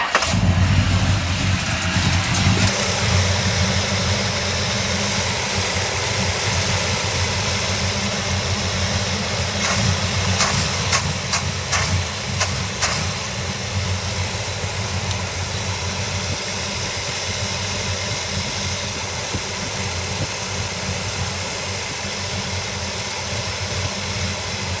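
A Small Block Chevy 350 V8 with a JEGS HEI distributor idling, a loud, steady low rumble that stays even throughout and starts with a brief higher note.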